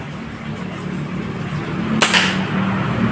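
A single sharp crack from a Marauder air rifle shot at a target cuts through steady background noise, with no voices.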